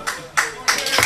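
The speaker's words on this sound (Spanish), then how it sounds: "Están aplaudiendo a vos, Valen." Audience at a live lyrical classics show clapping in short bursts, a few quick rounds of applause separated by brief pauses, fairly close.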